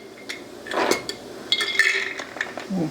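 Hazelnuts scooped with a quarter-cup measuring cup, close-up scraping and rattling with bright clinks of nuts against metal in several uneven bursts.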